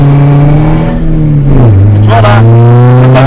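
An Audi A3 tuned to stage 2 revs hard and accelerates, a loud close engine note that drops briefly at a gear change and then climbs again, with talking partly mixed in.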